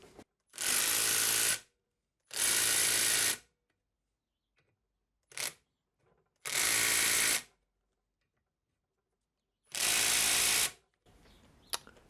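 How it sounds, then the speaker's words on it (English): Impact gun working on motorcycle sprocket carrier bolts during a Yamaha XJ6 rebuild, four loud bursts of about a second each plus a short blip, separated by silence. "try out the impact gun and see if it's going to undo these nice and easy"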